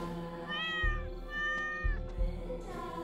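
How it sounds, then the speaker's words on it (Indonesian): A cat meows several times in a row in the horror video game DreadOut, clear and close, with drawn-out plaintive cries over a steady low background hum. "Ada suara kucing."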